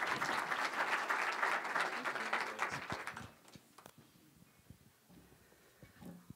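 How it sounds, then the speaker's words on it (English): Conference audience at a Central Australia tourism gathering gives a round of applause, a loud burst of clapping that fades out after about three seconds, followed by quieter room sounds and some voices. "Give her a round of applause."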